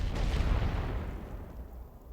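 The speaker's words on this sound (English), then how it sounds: "Some more artillery on Yankee." Artillery fire in the WW1 strategy game The Great War: Western Front, a deep booming rumble of shell bursts that is heavy at first and then fades away.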